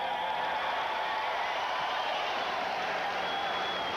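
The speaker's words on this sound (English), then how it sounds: "an excited crowd here in Columbus" A large, excited arena football crowd in Columbus, Ohio, at a 1991 home game against Detroit, roars steadily as a dense, continuous wash of cheering that stays loud and even throughout.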